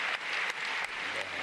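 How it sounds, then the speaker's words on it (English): Audience applause fills an arena after an ice dance rhythm dance program at the Grand Prix de France figure skating event, a steady dense clapping wash with a few louder swells. "Mauricio Magalio leading the applause, who coaches these two in Helsinki in Finlan"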